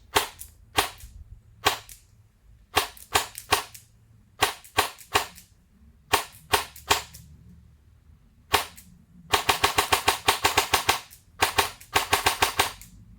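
A high-end upgraded AEG airsoft gun fires repeated bursts of sharp, snappy shots, short strings with gaps, then a longer fast sustained volley near the end, close and crisp with no talk.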